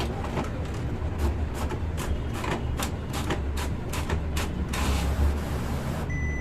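Epson L15160 inkjet printer running a print job, a steady mechanical whir with a regular series of clicking carriage passes, close and moderately loud.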